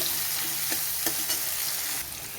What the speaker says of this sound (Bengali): কড়াইয়ে যে তেলটা ছিল তার মধ্যে আরও একটু তেল দিয়ে আলুগুলোকে দিয়ে দিলাম আলুগুলো ভেজে আমি তুলে নেব